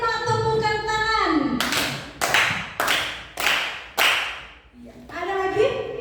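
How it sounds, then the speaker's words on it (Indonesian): A group of people claps five times in unison during a teaching session, five loud sharp claps in a steady rhythm between stretches of voices speaking. "Kita beri 5 tepukan tangan"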